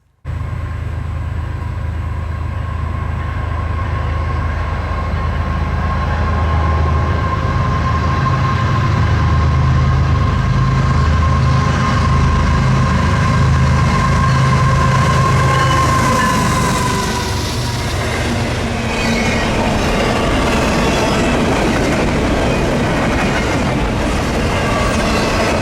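A heavy Union Pacific GE Evolution freight locomotive roars past close by, its diesel engine droning loudly before the rhythmic rumble and clatter of wagons follows.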